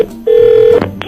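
A telephone gives a single steady electronic tone lasting about half a second, loud and close, with brief background noise around it and no talk.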